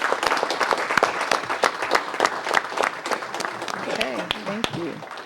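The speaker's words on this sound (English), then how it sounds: "give them a round of applause." Sustained applause from an audience at a city council meeting, dense clapping filling the room throughout, with a few voices briefly audible near the end.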